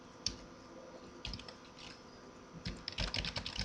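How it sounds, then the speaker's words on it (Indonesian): Close, quiet tapping on a computer keyboard while typing in Microsoft Word, irregular clusters of key clicks speeding into a quicker run near the end. "Diketik aja bebas"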